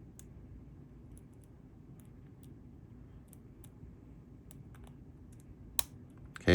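A Cargo Maxx laminated padlock being picked under heavy tension, giving faint scattered pin clicks against quiet background noise and ending in a louder clack.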